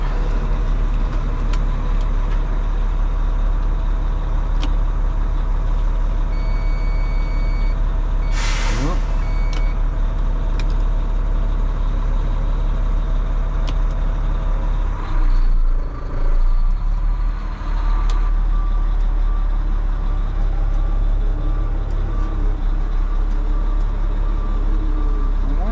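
A Volvo L180G wheel loader with a suspected engine fault loading onto a trailer, its loud reversing alarm beeping in a steady repeated pattern over a constant heavy diesel rumble, with a brief air-brake-like hiss midway.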